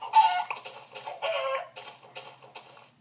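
Video-game chickens cluck in a run of short, clear bursts, loud and close, with no talk over them.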